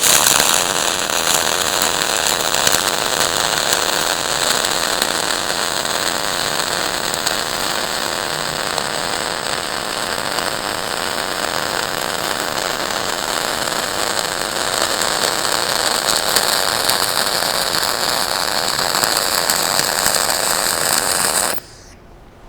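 Continuous crackling and sputtering hiss of flux-core arc welding a surface bead, steady and loud for a long stretch, then cutting off abruptly near the end.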